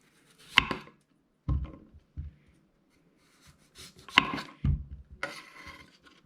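A kitchen knife trims the top and bottom ends off a skin-on chayote being prepared for a beef stir fry. About five short, sharp cuts land in two clusters, close and fairly crisp against quiet.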